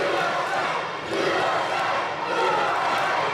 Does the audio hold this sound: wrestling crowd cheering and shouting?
yes